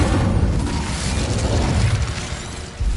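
Incendio fire spell cast in a video game, a dense whooshing burst of flame with low rumble lasting about three seconds, loud and close.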